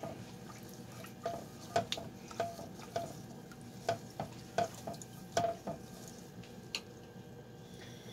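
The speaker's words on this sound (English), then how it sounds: "I'm going to stir this up real good" A spoon stirs soy sauce into sweet and sour sauce in a pot, giving soft, wet, regularly spaced scrapes and clinks, quiet and close, about a dozen strokes with no talking.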